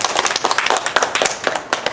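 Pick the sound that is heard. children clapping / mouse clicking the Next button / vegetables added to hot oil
children clapping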